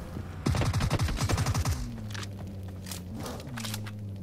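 Rapid burst of PUBG Mobile gunfire, about a dozen sharp shots in quick succession, loud and close, followed by quieter game ambience with a low hum and a few faint distant pops.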